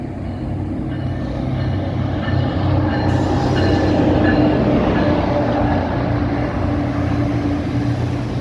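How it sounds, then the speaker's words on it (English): A New Jersey Transit passenger train led by an ALP-45DP locomotive rolls in with a loud, steady rumble of wheels on rail, a sustained electric hum and occasional faint squeal, close by throughout. "Our next New Jersey Transit train arrives, headed for Raritan with an ALP 45DP leading."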